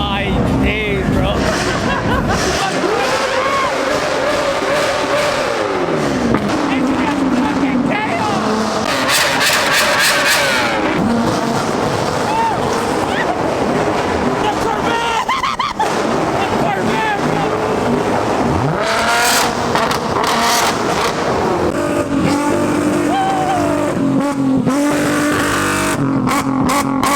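A loud Toyota Supra at a car meet, its engine revving hard in repeated bursts that rise and fall, with crowd voices and shouting mixed in close by.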